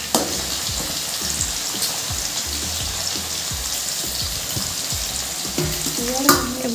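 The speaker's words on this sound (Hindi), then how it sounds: "बीट को भी फ्राई करदे 2 मिनिट हल्का फ्राई करदे तेल में" Beetroot and cabbage frying in hot oil for mixed-veg chowmein: a loud, continuous crackling sizzle up close, broken by frequent scrapes and taps of a spatula stirring the pan, with one sharper clatter near the end.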